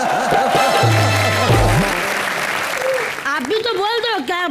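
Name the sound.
audience applause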